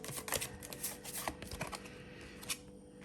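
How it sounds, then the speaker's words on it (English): Tarot cards being shuffled by hand, a close, quiet series of riffling flutters and soft slaps in quick irregular bursts, with no talking. "Okay, I am shuffling."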